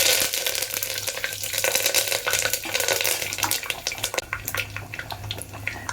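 Steady sizzling and crackling of seeds popping in hot oil, dense and close, with sharp pops scattered throughout and no voices.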